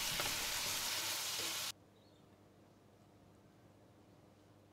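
Eggplant stir-fried in a wok with fried prawns and spring onion gives a loud, steady sizzle that stops abruptly partway through, leaving near silence.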